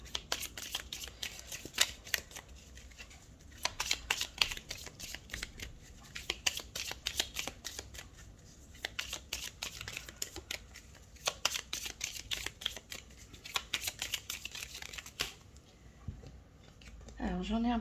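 Tarot cards shuffled and dealt in steady rapid riffling bursts with short pauses between, close and crisp, continuing for most of the stretch before a brief shift at the end.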